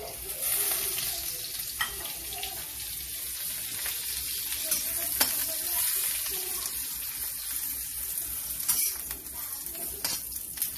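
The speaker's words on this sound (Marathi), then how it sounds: "थोडं याच्यामध्ये 1 चमच तेल टाकते, छोटा चमच, आणि ह्या शेंगा परतून घेते" A teaspoon of oil hisses under green beans being sautéed in a pan, giving a steady, moderate sizzle with occasional clicks of a spoon.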